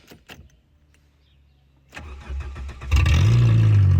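Car engine cranking and catching after a battery replacement, likely a Citroën Saxo: a few faint clicks, then a starter whirr that rises into a loud, steady running idle close by.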